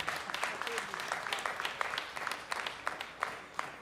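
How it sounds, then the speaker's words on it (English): A tech summit audience applauds a panel, a crowd's brisk, dense clapping that holds steady for a few seconds, moderately loud with scattered sharper claps. "So big round of applause again for this panel."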